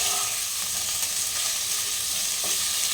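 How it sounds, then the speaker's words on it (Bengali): Potato pieces frying lightly in oil in a pan for a home egg recipe give off a continuous, even hiss and crackle, close and steady with no talk. "আলুটাকে এইভাবে ভেজে নিতে হবে"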